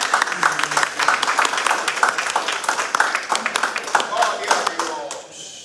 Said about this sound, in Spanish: Denle un aplauso al Rey de Dios.